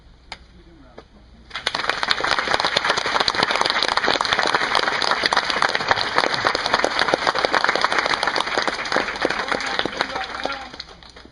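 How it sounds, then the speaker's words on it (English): Applause from an audience on a Cherokee reservation: after a quiet start, a dense burst of clapping rises sharply and holds loud and steady for about nine seconds before tapering off. "Let's give them a round of applause."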